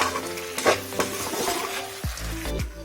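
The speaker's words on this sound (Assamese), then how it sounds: "মাংসখিনি মাজে মাজে লৰাই থাকিব যাতে মাংসখিনি তলত লাগি নাযায়" Duck meat cooked with ash gourd is stirred as it fries in a pan, with a steady sizzle under repeated scraping strokes of a utensil against the metal, close and moderately loud, no talk.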